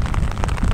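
A short burst of heavy rain beating down over a flooded field, loud and close, with a dense low rumble underneath.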